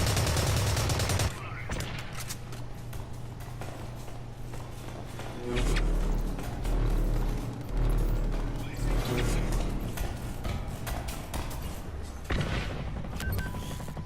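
AK assault rifle fire in Blacklight Retribution on PS4 crackles in loud rapid bursts and long sustained volleys with deep booming impacts, broken by short pauses, while someone talks over the gameplay.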